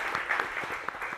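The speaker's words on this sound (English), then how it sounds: "Let's give her a round of applause." Audience applause at a televised congressional debate for TX-21, a steady wash of clapping from a crowd filling a brief stretch with no voices over it.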